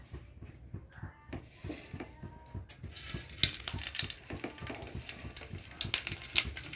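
Mustard seeds frying in hot oil in a kadai, with onion, crushed garlic and ginger nearby, crackle and sizzle steadily, starting softer and growing into dense, bright popping over a low rhythmic background.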